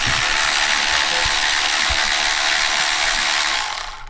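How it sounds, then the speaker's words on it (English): Milwaukee M12 cordless ratchet spinning off bolts on a 2.5RS Bugeye, a loud, close, continuous mechanical whirring with a couple of brief low clunks, winding down at the end. "I like using the Milwaukee M12 ratchet. It's got decent torque, decent speed behind it"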